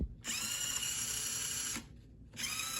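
An LDRC 18499 RC crawler with metal dog bones and drive cups on brass bushings, its electric motor whining loudly and steadily at full throttle, briefly dropping off near the end before surging again.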